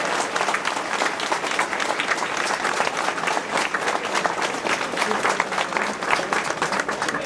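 Audience applause at a red-green party leaders' event in Växjö, sustained, dense clapping from a full room, steady and loud throughout with no pauses.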